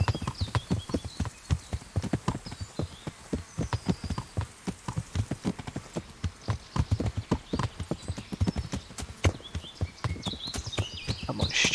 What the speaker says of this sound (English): the horse is really hard to steer when it's just walking.